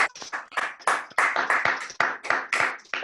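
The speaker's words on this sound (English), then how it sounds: "we have a big round of applause for Ian McCulloch" Several people clapping over a video call for a guest, close and crisp with sharp irregular hand claps in quick bursts, no one speaking.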